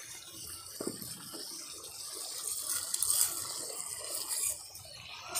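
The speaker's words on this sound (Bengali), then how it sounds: "আর এই পোস্তর বাটি ধুয়ে একটু জল দিয়ে দেব" Water running and splashing as a poppy-seed paste bowl is rinsed and the water poured into a cooking pot, a steady close gush with a few small splashes, no talking.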